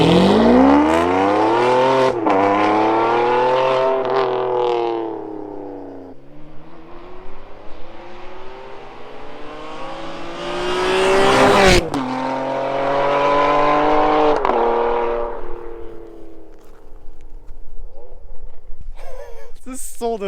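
A Ferrari 599 GTB's V12 screams loudly on the road through repeated hard accelerations, the pitch climbing with each gear before dropping at shifts, close and dominant throughout.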